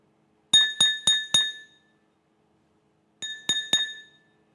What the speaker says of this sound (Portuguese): Vamos para o segundo recipiente, o copo.